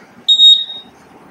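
A workout timer alarm sounds one bright, steady electronic beep tone lasting about half a second, loud and close, then cuts off over a quiet room during a leg-day exercise session.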